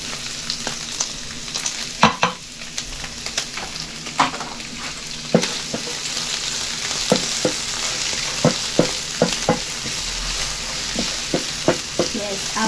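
Beef frying with garlic and onions in a pan, a steady sizzle broken by repeated scraping stirs, close and moderately loud, with no talking.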